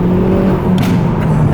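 Engine of a car with a 275 brake performance pack, a loud close steady drone with low harmonic hum and brief whooshes, no speech.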